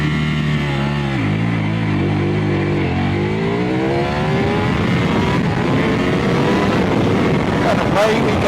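A 2022 Ducati Panigale V4S motorcycle using launch control revs, then drops into first gear and pulls away hard, its engine note climbing steadily through rising revs with loud wind rush at the microphone.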